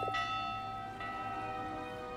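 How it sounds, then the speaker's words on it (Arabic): An alarm bell rings in the video game Ghost of a Tale. Two resonant metallic strikes about a second apart leave sustained, ringing tones that fade slowly under a faint background hiss. "جرس الانذار بيشتغل"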